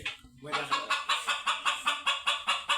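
A sparrow calls in a quick, regular series of sharp, clucking notes, close and fairly loud, like a hen.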